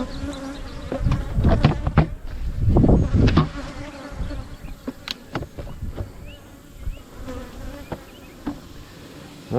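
Honey bees buzz around an opened nuc hive during re-queening, a dense, close, continuous drone with individual bees zipping past the microphone and occasional clicks and knocks of hive handling.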